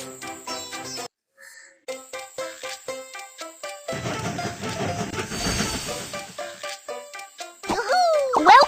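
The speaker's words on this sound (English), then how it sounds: "The train is about to start." A cartoon toy train starting to move, with rhythmic chugging and steam hiss building among bright musical jingles and a short whistle-like tone near the end.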